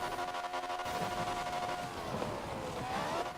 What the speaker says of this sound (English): I actually think this engine sounds more appropriate for the car